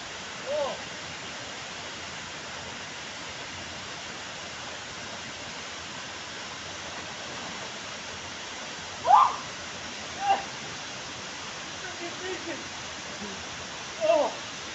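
Waterfall cascades at Mahai in the Drakensberg make a steady, broad rushing hiss throughout, with a few brief vocal exclamations rising above the water noise.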